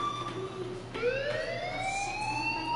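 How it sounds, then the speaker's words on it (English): Fire alarm in the video game Life Is Strange: a loud electronic siren-like tone sweeping steadily upward in pitch, continuous and close, with no talking. "Hey, do you hear that fire alarm?"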